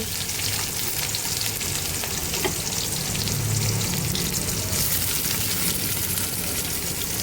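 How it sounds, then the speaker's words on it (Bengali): Onion, garlic and ginger fry in oil in a wok, giving a dense, constant sizzle heard up close for several seconds, with light bubbling and occasional stirring; no one talks. "আদা সব আমি তেলে ফ্রাই করে নেব"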